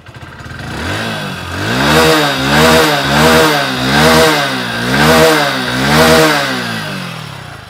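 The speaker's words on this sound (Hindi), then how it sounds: "अब सुनते हैं पैशन प्लस का साउंड।" A Hero Passion Plus motorcycle engine runs loud and close, its exhaust note rising and falling in five or six rhythmic revs over a steady idle.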